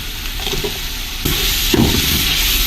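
Green chillies and bay leaf drop into hot oil with frying ginger and garlic, giving a loud, steady sizzle that flares up twice as the ingredients hit the pan and are stirred.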